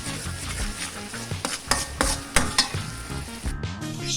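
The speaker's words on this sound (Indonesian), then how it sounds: "Ini kita goreng dulu sampai harum, sampai kering" Ground spices fry for Indonesian mie kocok beef rib noodle soup, crackling in hot oil with a continuous sizzle broken by repeated stirring scrapes and clinks of a utensil against the pan.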